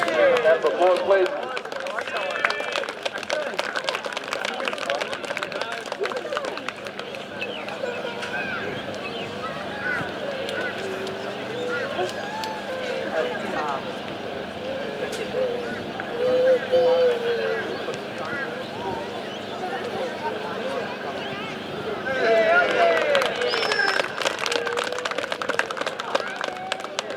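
A crowd applauds at rowing cup finals, steady clapping under a loud announcer voice over a PA, swelling again toward the end.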